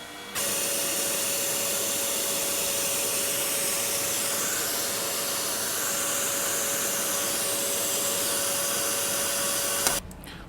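An Emco Super 11 lathe cuts a 4mm keyway with a carbide cutter: a loud, steady machine whine with a constant tone runs nearly ten seconds without break, then stops abruptly.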